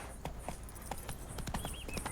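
Roach's hooves clip-clop in The Witcher 3, a steady, fairly quiet walking rhythm of about two hoofbeats per half second, close by over soft outdoor ambience.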